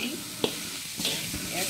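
Grated coconut and brown sugar are stirred in a hot pan, producing a soft sizzling hiss with a brief scrape of the spoon; a voice murmurs faintly in the background.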